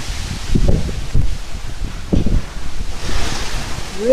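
Strong wind gusts roar in surging waves over heavy rain in Klidon, Ngaglik, Sleman, Yogyakarta, loud and close with buffeting against the microphone.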